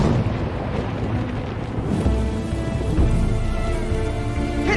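Steady rain falls through a dark night in a ninja film, a dense continuous hiss with low rumbles that build slightly toward the end.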